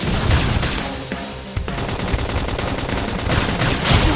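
Battle gunfire in Xenoblade Chronicles X Definitive Edition, with continuous rapid shots blended into a loud, dense wash of combat noise.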